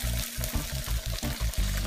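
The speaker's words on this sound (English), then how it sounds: "You can see the turkey bacon is sizzling, so I'm just going to pour it in" Turkey bacon sizzles loudly in a frying pan while egg whites are poured in, a close, steady hiss with a rhythmic pulsing glug from the pour.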